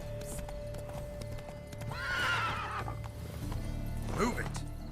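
A horse in The Witcher 3: Wild Hunt – Blood and Wine gives a clear, close whinny, with clip-clopping hooves and a short snort following, over game ambience. A voice speaks briefly.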